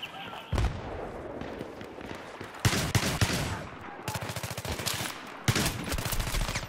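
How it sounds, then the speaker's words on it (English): Shotgun fire in the video game Battlefield 3 on the Noshahr Canals map: several loud, sharp blasts come at irregular gaps, with rattling bursts and low game ambience between them. "Hey, it's a shotgun!"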